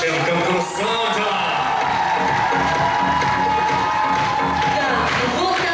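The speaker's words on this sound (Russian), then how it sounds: "Аплодисменты громкие нашим конкурсантам" A large audience at a Miss and Mister university pageant claps and cheers loudly for the contestants, with dense sustained applause, whoops and crowd noise filling the hall throughout and music underneath.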